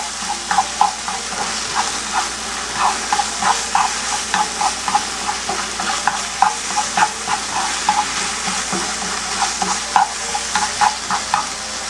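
Peafowl liver fries with vegetables in a hot pan, a steady sizzle and hiss broken by regular scraping strokes of a spoon stirring, close and loud throughout.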